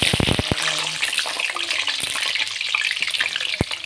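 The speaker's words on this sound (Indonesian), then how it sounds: "Langkah selanjutnya kita mau goreng terongnya." Eggplant drops into hot oil in a pan for a Betawi chili dish, setting off a continuous close sizzle with a few sharp pops and clatters at the start.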